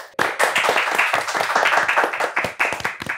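Studio audience claps energetically to welcome guests onto a talk show, dense close clapping starting abruptly and continuing for a few seconds with no speech.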